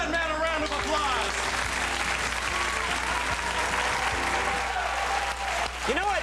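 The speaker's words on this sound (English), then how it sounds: "Give that man a round of applause" A studio audience applauding a man at a 2001 talk show, with dense, steady clapping and cheering that fills the whole stretch, loud and close, with some voices calling out in the crowd.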